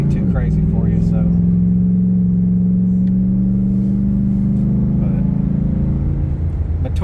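A cammed 6.4 Hemi Ram 2500 pickup with an FRP Hellfire 2.0 camshaft and an aftermarket muffler idles up close, giving a loud, continuous, loping rumble with a faint voice in the background.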